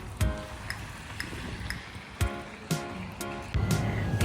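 Rain patters steadily, with occasional louder splashes and thumps, as if heard from inside a vehicle driving home.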